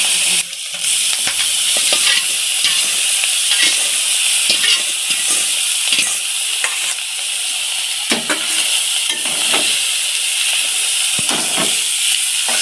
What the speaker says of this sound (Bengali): এবার এটা ভাজা হয়ে গেছে তো চলো চাউমিনগুলো দিয়ে দিই